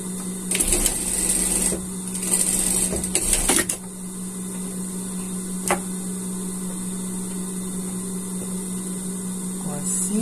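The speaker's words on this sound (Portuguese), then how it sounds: "E vamos passar uma costura até aqui embaixo" A sewing machine stitches a seam on unicorn pajamas, running in a few short bursts over a steady motor hum, then falling quiet with only the hum remaining.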